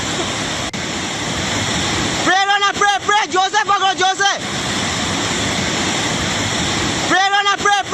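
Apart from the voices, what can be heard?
raging floodwater roaring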